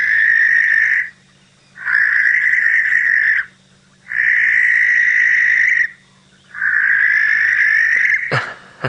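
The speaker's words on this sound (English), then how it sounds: "Let me just play the barn owl for you." A recorded barn owl call is played back outdoors during an evening safari drive. Four long, harsh, rasping screeches repeat loudly and evenly with short pauses between them, ending with a sharp click.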